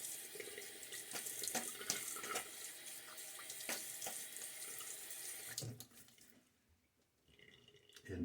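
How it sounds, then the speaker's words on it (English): A tap runs steadily into a sink while a Gillette Fat Boy 1961 safety razor is rinsed mid-shave, a close, constant rushing stream that cuts off near the end and then briefly starts again. "A little half rinse now."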